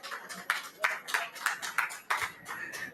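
At an outdoor veteran and small business trade show, a few hands clap in separate sharp, spaced strikes, a thin and uneven round of applause rather than a full crowd.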